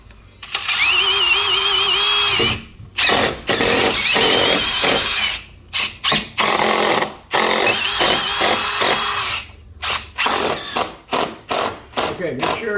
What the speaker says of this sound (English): We're going to start a screw down here at the bottom.